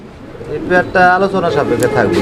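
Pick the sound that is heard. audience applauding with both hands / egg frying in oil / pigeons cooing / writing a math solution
pigeons cooing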